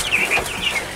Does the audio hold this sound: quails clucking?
yes